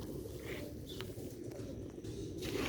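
Sialkoti black-faced pigeons, a pair kept in a loft in Sialkot, give soft, faint coos and stirrings against a steady, noisy background hum.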